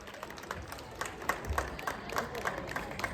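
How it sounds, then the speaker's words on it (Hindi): An audience at a school annual day claps for students, a steady patter of applause from a crowd in a hall, moderately loud and continuous throughout. "एक बार जोरदार ताली बजा के बच्चों का सबका उत्साहवर्धन करें."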